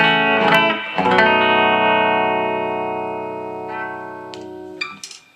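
A Les Paul style electric guitar on its back pickup, with the volume and tone controls full up, rings out in loud strummed chords that sustain and slowly fade, with a few picked notes near the end.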